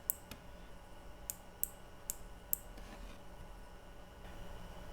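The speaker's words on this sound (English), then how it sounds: "Each time it rides over that cam, it snaps, and you get that nice, audible, classic clicking sound." Logitech G915 wireless mechanical gaming keyboard switches clicking: five or six sharp, separate clicks at uneven spacing, close and fairly quiet against a faint background hiss.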